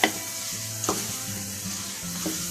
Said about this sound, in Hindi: तकरीबन 5 मिनट तक आपने आलू को मसाले में ऐसे फ्राई करना है ताकि अच्छे से मसाला इसमें जज़ब हो जाए।